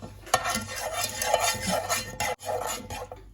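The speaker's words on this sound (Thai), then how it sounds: "น้ำตาลทรายสองช้อนครึ่งนะคะ คนให้น้ำตาลละลายนะคะ" Stirring sugar into a sauce for cashew chicken stir-fry, a close scraping and clinking of a utensil against the pan in uneven strokes, with a faint sizzle underneath.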